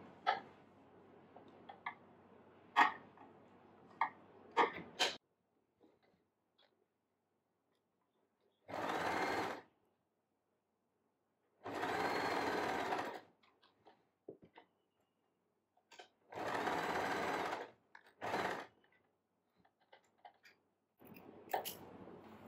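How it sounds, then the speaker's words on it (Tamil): A sewing machine lock-stitches small fabric strips for handmade hair clips. It runs in short bursts of about a second each, with quiet pauses and light ticks and clicks between them. "அடுத்தது இந்த சின்ன ஸ்ட்ரிப்பையும் நம்ம தச்சுக்கலாம்"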